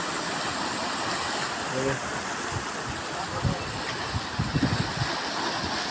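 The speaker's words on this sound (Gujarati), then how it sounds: "આ પાણી છે આ જાય છે અત્યારે" A water stream flows outdoors in a broad, steady rushing roar that fills the scene, with a voice talking faintly over it and a few low thumps near the end.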